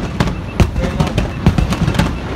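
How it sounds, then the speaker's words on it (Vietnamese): Strings of firecrackers and fireworks going off at New Year's Eve, a dense rapid crackle of close, loud pops in quick succession with faint voices underneath. "bắn dồn dập luôn, giòn dã, rất là phiêu. Đấy, là một tràng pháo tép rồi."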